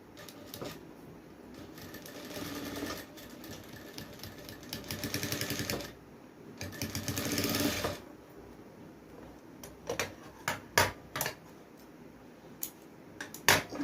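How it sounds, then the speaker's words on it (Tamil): A sewing machine runs a straight line of stitching on a blouse, with long bursts of steady mechanical whirring that break off, then a string of sharp clicks and taps near the end, with no voices. "இப்படியே ஒரு ஸ்ட்ரெயிட் லைன் நம்ம ஸ்டிச் பண்ணிக்க போகிறோம்"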